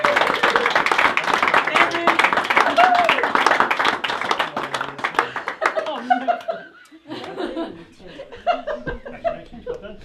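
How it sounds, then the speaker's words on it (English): Wedding guests clap and cheer for newlyweds Nick and Heather right after the kiss at a registry office ceremony, dense applause with laughter that thins into scattered claps and chatter. "Should we give them a round of applause, ladies and"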